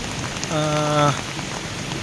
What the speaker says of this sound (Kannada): ಹೆಂಗೆ ಮಳೆ ಬಿದ್ದೈತೆ ಅನ್ನುವಂಥದ್ದು ತೋರಿಸ್ತಾನೆ